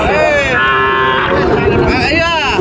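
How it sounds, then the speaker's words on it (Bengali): Sahiwal cattle moo with long, drawn-out lowing calls against a busy, noisy cattle market background, fairly loud and close. "2 জোড়া দেখতে পাচ্ছেন শাহিওয়াল গরু"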